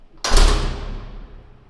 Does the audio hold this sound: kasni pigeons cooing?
no